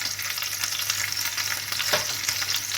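Lamb shanks coated in pepper and four-spice browning in a hot pan, a close, steady sizzle with a dense crackle and one brief utensil scrape.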